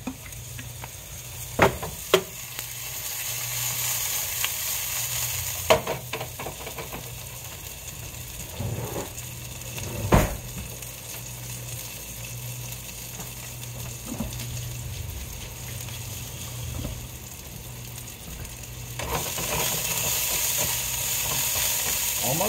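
Onions frying in oil in a pan on a gas stove, a steady soft sizzle running throughout with occasional scrape and clatter of a utensil stirring them, no talking.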